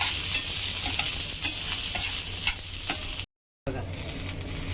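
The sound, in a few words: dry-roasting sesame, poppy seeds, green chillies, garlic, ginger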